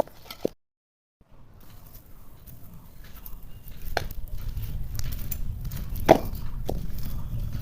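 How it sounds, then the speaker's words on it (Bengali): A knife cuts egg frybon dough into small pieces on a board, giving a few scattered sharp taps separated by quiet gaps, with a soft background murmur. "এবার ছোট ছোট করে লেচি কেটে নিই।"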